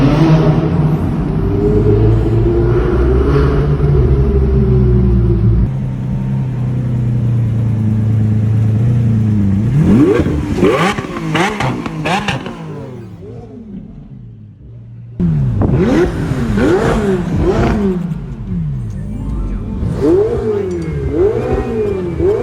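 A supercar engine idles with a deep rumble, then revs hard several times in sharp rising bursts, loud and close, with a brief lull between.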